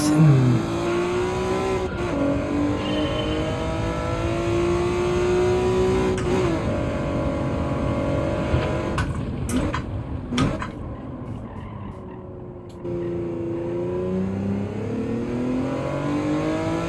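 A race car engine in Gran Turismo climbs steadily through the revs, drops briefly with gear changes, then pulls hard again, loud and continuous with no talking.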